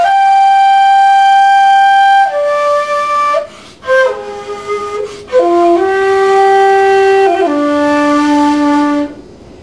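A conventional 1.8-length shakuhachi of normal diameter plays a slow solo phrase of sustained, breathy notes that step downward in pitch, with brief pauses between them and no voices.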